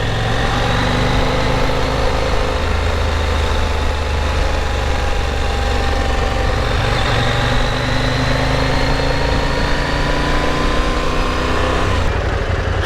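Road traffic at school kicking-out time rumbles continuously, with idling and passing engines and a steady low drone heard from the road, loud and without talk.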